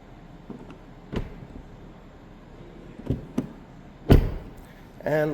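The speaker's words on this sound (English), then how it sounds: "let's shut this door" The door of a 2026 BMW X5 xDrive40i in Alpine White with a black M Sport Pro interior swings shut with a solid thud, alongside a few lighter clicks and knocks, and someone talks around it.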